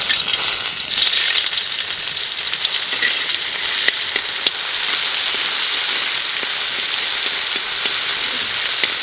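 Onion paste frying in oil for a katla fish curry gives a loud, continuous close-up sizzle and hiss with occasional crackles and a stir or two.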